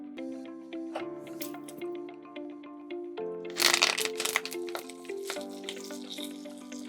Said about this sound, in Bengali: এবার আমি তেলের মধ্যে কারি পাতাটা দিয়ে দেব।